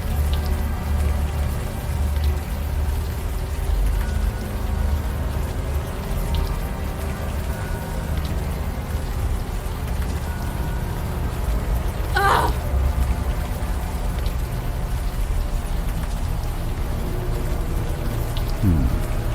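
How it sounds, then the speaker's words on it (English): Steady rain pours down in the supernatural adventure game Unavowed, a dense, even wash of patter that holds at the same level throughout, with a brief sharper burst partway through. "Now that it's out of the open air, the warm rain is coming down."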